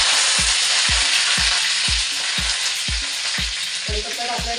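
Curry leaves crackle and sizzle in hot oil with popping mustard seeds, a steady broadband fry with regular low knocks, close and loud with no talk, while making poha with onion, potato and peanuts.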